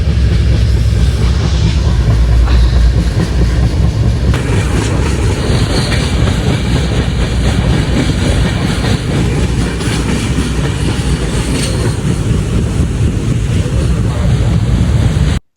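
A train running at night on the line from Kolkata toward Farakka, heard from inside a carriage near an open window: a loud, continuous roar of wheels and rushing wind that stays steady throughout without a pause.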